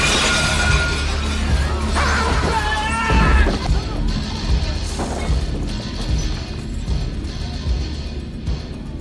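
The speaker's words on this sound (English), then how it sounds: "the man gets to the window, and as soon as Trent is told about Sutter Kane's disappearance, the man smashes the window" A man with an axe smashes a window in a horror film, a loud crash of shattering glass followed by scattered tinkling and debris amid a dense, dramatic soundtrack.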